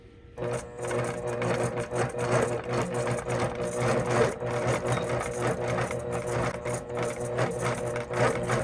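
A longarm quilting machine stitches couching in a steady, close rapid needle chatter with a constant motor hum running throughout, and no voices over it.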